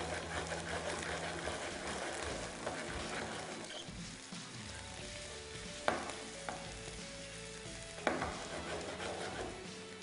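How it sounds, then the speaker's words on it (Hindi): Green chilli, capsicum, carrot and cauliflower fry in a hot pan in a kitchen, giving a steady sizzle with stirring and a few sharp utensil clinks against the pan, with no one talking. "हरी मिर्च के साथ ही अब मैं डाल रहा हूँ ये शिमला मिर्च, गाजर और उसके साथ फूल गोभी डाल दी है"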